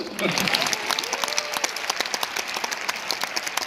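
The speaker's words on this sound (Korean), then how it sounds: "박수 한번 쳐주실래요?" A ceremony audience claps together in a steady, dense burst that continues throughout, with crisp individual claps standing out near the microphone.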